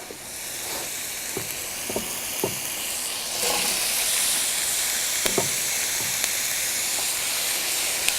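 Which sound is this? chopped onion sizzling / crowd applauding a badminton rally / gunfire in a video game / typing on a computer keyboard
chopped onion sizzling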